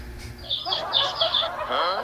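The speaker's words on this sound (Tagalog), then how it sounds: "Ingay kasi ng manok." Chickens squawking and clucking close by in a short flurry of high, overlapping calls.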